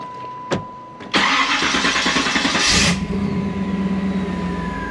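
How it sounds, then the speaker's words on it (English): A 1989 Chevrolet Camaro engine cranks briefly after an oil change, then catches with a loud close roar that settles into a steady idle, preceded by a couple of faint clicks. "Okay, so I'm going to start up the vehicle."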